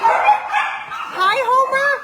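Homer, a rescue puppy, gives a run of loud, close, high-pitched yips and whimpering barks in quick succession with a few short pauses.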